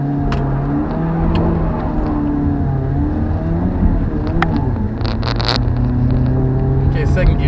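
A BMW 318ti pulling through second and third gear, a loud, close engine drone climbing in pitch with each gear, the tone dropping briefly at shifts, with some clicks and rattles from inside the cabin.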